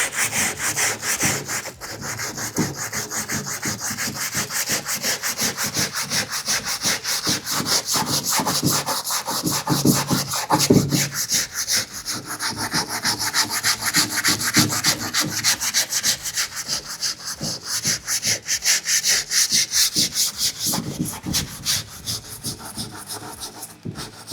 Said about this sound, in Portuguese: Então a gente vai usar essa lixa aqui por cima para poder fazer esse movimento.